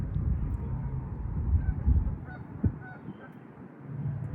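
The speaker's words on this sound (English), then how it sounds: "mixed with the sound of geese and ducks" Geese and ducks honk in a Torrance nature area, scattered calls sitting fairly faint and distant over a low, steady background rumble, with one sharper knock standing out partway through.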